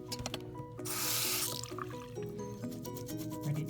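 Water drips and trickles faintly while a makeup brush is rinsed clean of soap, a soft wet splash swelling briefly over low background hum.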